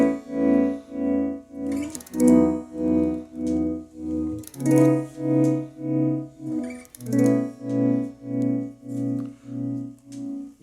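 Electric guitar through a Fender Champion 20 amp with its VIB effect engaged, sustained chords throbbing in a steady, even pulsating rhythm, moderately loud, with no talking.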